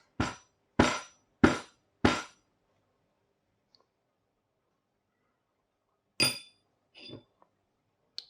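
Four sharp metallic taps on an espresso portafilter to settle the grounds come in an even rhythm, close and distinct, followed by quieter clinks and handling sounds.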